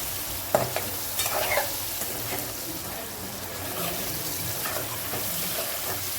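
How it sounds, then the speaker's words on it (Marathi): Fish curry masala sautéed and stirred in a pan, a steady low sizzle with scattered scraping stir strokes, a couple of sharper clinks early on, close and moderately loud. "मस्तपैकी परतून घ्यायचं"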